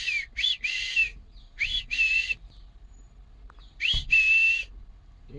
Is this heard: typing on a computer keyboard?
no